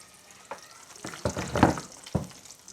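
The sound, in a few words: garlic frying and being stirred in a pan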